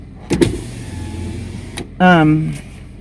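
Electric power window of a car sliding down with a steady motor whine for about half a second, following a few soft cabin thumps and under low engine hum.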